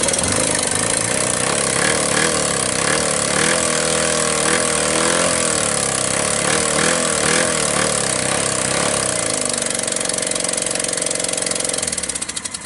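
A small multi-cylinder engine runs continuously at a loud, close, rough rumble, its pitch rising and falling slightly as the revs shift, then settling lower before tapering off near the end; no one talks.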